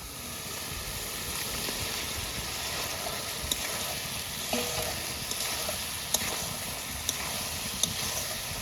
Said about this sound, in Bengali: এবার ভেজে রাখা ভেন্ডিগুলো দিয়ে দেবো